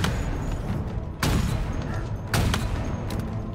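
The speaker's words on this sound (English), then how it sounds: "I'm wasting so many shots." Gunfire in a video game boss fight: a steady low rumble of game audio punctuated by two loud, sharp shot bursts about a second apart, with no talking.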